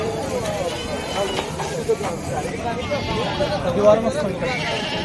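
Goats, including mothers with kids, bleat amid a busy crowd at the Banjara goat market in Morampalli, with people talking and chattering throughout as the animals call out intermittently.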